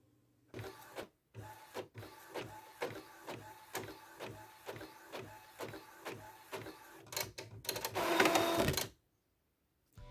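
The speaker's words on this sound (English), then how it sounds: "it was time to send it to the printer" A printer runs through a box template job, its mechanism chugging in a steady series of rhythmic pulses, then a louder whirring burst near the end before stopping; fairly quiet and close, with no talking.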